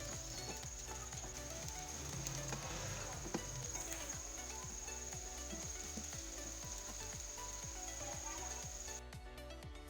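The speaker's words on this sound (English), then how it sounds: "Fry onion until its color turns into brown." Onions frying in a karahi for beef karahi gosht, a steady close sizzle with fine crackling and popping throughout, alone without talk, with a high steady whine of a kitchen appliance in the background.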